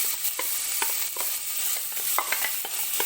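Two finely chopped large onions are frying with spices in a pan for a country chicken gravy. Steady close sizzling and crackling runs throughout, with scraping stirring strokes and no talking.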